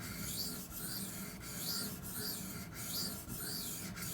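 A Cold Steel Demko AD-15 knife blade drawn repeatedly across a sharpening stone, with steady rhythmic raspy strokes about every two-thirds of a second, close and fairly quiet, no voices.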